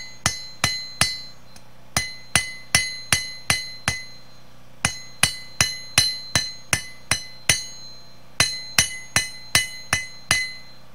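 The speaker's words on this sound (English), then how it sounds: "I just use a small flat hammer" Rapid bursts of sharp, ringing strikes of a small flat hammer forging a knife blade, in quick even rhythm with brief pauses between groups, close and clear.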